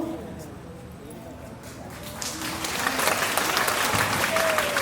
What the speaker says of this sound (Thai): ขอเสียงปรบมือดังๆอีกครั้งหนึ่งด้วยนะครับ